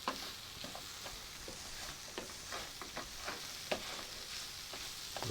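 Mushrooms and red bell peppers cook in a pan, giving a steady soft sizzle with scattered light crackles and stirring scrapes throughout, fairly quiet and with no talking.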